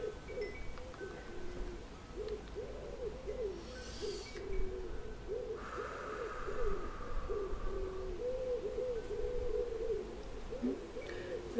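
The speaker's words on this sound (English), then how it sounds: "Birds have started a chorus." Repeated soft cooing calls from several birds overlap in a steady chorus, with a brief higher chirp and rustle mixed in.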